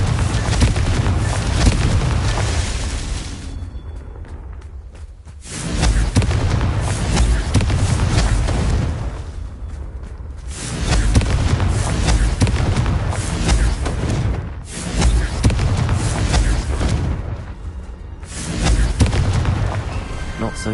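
Repeated Confringo fire spell blasts in Hogwarts Legacy during a Merlin trial: broad, booming explosive bursts in several long waves with short gaps between, loud and close, with a voice briefly over them.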